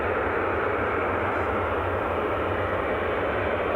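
Loud, steady broadband jet roar from a Jet2 Boeing 737 taking off at Edinburgh Airport, a continuous rumbling wash without talking.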